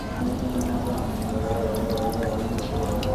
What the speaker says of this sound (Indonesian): Selanjutnya ini kita siram